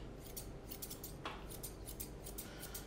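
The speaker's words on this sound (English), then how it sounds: "I'm just letting my thinning shears do the work for me here, guys. Oh, sorry, my curved shears." Curved grooming shears trim a poodle's top knot, a run of quick light snips repeating steadily throughout, close and crisp, with no talking.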